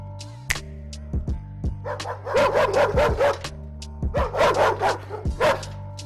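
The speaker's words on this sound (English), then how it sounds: "the demon dogs will be right at your door" Several dogs bark and yip in two excited bursts, close and loud, with rapid overlapping barks over a steady low hum and a few sharp knocks between.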